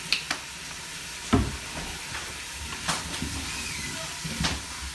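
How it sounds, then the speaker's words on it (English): Duck pieces and vegetables sauté in an Instant Pot with a splash of beef broth concentrate, giving a steady soft sizzle and hiss marked by a few sharp clanks and scrapes of stirring. "you let it saute for about 10 minutes or so until everything gets good and soft"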